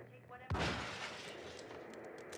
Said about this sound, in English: Ooh, is this an explosion?